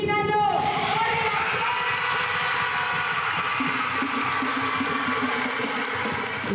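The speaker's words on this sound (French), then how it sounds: "Je vous demande d'applaudir Hinano." An audience cheers and applauds dancer Hinano as the results are announced after a long dance competition: a dense, steady wash of clapping and shouting voices that stays loud throughout, with a brief high voice at the start.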